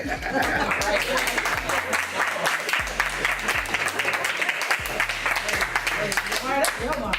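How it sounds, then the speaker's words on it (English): Clapping and applause rise from a crowd during a talk, mixed with laughter and chatter, while a low, intermittent tone runs underneath. "Why someone in the crowd clapping?"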